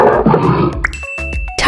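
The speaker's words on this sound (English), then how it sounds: "snow leopard" A snow leopard gives a rough, rumbling roar, loud and close for under a second, followed by bright chiming tones.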